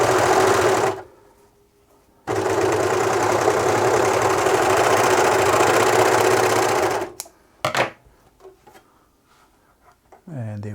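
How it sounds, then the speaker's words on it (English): A serger overlocker sewing machine running in two bursts of fast, rattling stitching, with a short pause between them and quieter handling clicks after the machine stops. "I just thought I'd show you how you can troubleshoot some of the issues with inconsistent thread tension on a serger."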